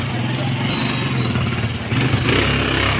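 A motorcycle engine idles close by with a steady, rough low rumble throughout.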